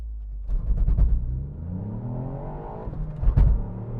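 Hot hatch car launched with launch control, engine revving hard at the start, then pulling in a rising whine through the gears, with a sharp burst near the end at a gear change.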